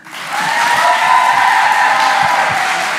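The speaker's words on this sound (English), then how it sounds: "Round of applause for Corey." A live audience at a haunted-house ghost show bursts into loud applause and cheering for a guest, swelling within the first half second into a dense, sustained roar of clapping with whoops and shouts on top.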